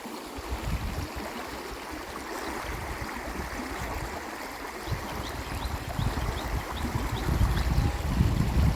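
Clear stream water flowing through natural surroundings near Sepon, a soft, continuous rushing and trickling wash that stays fairly quiet and steady, swelling slightly toward the end, with no voices.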